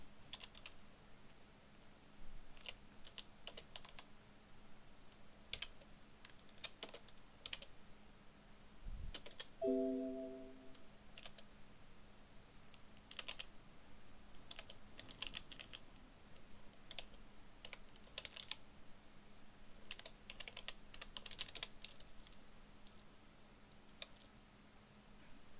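Linux commands typed on a computer keyboard for a BeagleBone Black board, scattered quiet key clicks in irregular bursts over a faint steady hum, with a short tonal chime near the middle.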